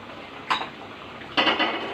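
A magur fish curry with taro is stirred in a cooking pot, giving two brief metallic scrapes and clinks of the spoon against the pot, close and with no talking.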